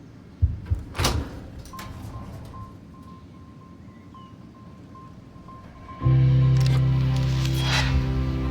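A door opens in the video game Harmony: The Fall of Reverie with a couple of soft knocks and a rattle, then a long quiet stretch before a loud, sustained droning swell begins.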